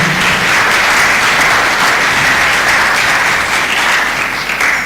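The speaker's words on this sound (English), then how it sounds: "Clap for Teacher Charles once again" A crowd at a national exhibition applauds a teacher, loud dense clapping that holds steady for several seconds and tapers slightly at the end, with no speech over it.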